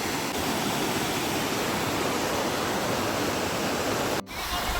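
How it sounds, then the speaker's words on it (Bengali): Strong stream pouring over Mirchaiya waterfall in Jharkhand, a loud, steady broadband roar of rushing water, close by and unbroken, with a brief dropout near the end. "ভালো স্রোত, আওয়াজটা কি শুনতে পাচ্ছেন? সাংঘাতিক।"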